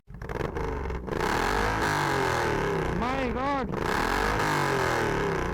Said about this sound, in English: Just listen to the exhaust sound here.